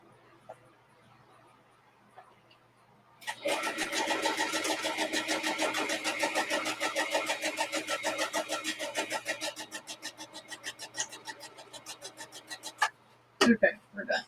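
A sewing machine stitches around a journal, starting up after a quiet pause and running in a rapid, steady mechanical rattle for about ten seconds before stopping, followed by a few handling knocks.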